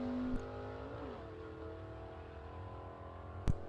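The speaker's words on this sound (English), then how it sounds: "Chad Stewart running that 57 Chevy through the gears." 1957 Chevy drag car at a vintage drag race, its engine droning steadily at a distance, pitch shifting once as it changes gear, with a sharp knock near the end.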